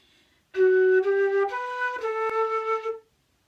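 A flute plays a short melodic phrase of about five sustained notes in steady rhythm, clear and close, with no voices.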